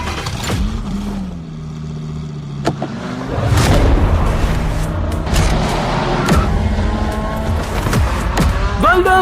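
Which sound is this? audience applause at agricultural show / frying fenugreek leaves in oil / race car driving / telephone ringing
race car driving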